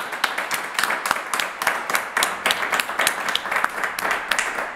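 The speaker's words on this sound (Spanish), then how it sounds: "un aplauso para ustedes" Steady applause from an audience at a press conference for a medal presentation, dense rhythmic clapping continuing throughout at moderate loudness with no talk over it.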